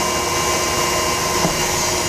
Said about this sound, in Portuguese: Eu vou ligar minha batedeira agora